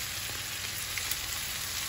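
Minced garlic sizzles in the leftover oil from frying meatballs, a steady, even crackle close by with a few small pops and no talking.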